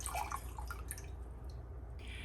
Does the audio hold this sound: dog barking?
no